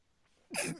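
One short, close sneeze bursts out abruptly after a near-silent moment, sharp and breathy, in a quiet room.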